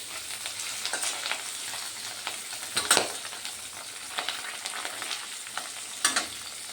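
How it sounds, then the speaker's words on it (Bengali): Pabda fish fry in hot oil in a pan, a steady close sizzle with crackling pops and occasional louder spatters, no voices. "আমি এইভাবে সবগুলো ভেজে নেব"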